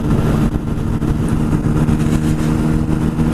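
A motorcycle cruising at about 65 mph, revving near 5,000 RPM in fifth gear, produces a steady, loud drone with continuous wind buffeting and no clear break for a gear change.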